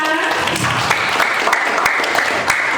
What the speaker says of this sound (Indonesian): boleh kasih tepuk tangan buat Gita